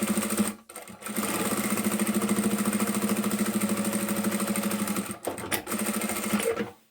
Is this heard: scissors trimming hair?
no